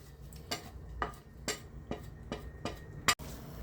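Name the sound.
stirring potato samosa masala in pan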